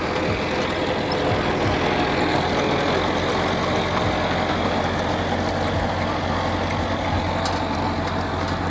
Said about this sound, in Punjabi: ਬਹੁਤ ਸੌਖਾ ਟਰੈਕਟਰ ਚੱਲਦਾ ਵਾ